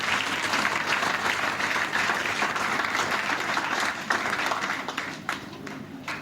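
A church congregation applauding and acclaiming during a worship service, dense sustained clapping that fills the room and tapers slightly toward the end.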